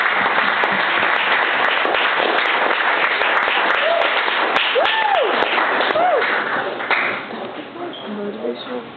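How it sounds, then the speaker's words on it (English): A comedy club audience gives steady applause for comedian Randy Mishler, clapping loudly and then tapering off near the end, with whoops and voices mixed in. "One more round of applause for Randy Mishler"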